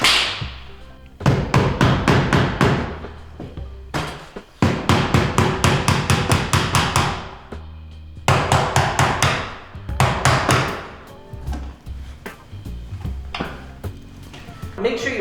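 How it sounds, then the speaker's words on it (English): A chisel tapped with a hammer along the groove of a wooden window sash to pry out the glazing bead, giving bursts of rapid sharp close knocks separated by short pauses, with some talk at moments. "You're not chiseling on the face of the glazing bead. You're not chiseling on the sash frame."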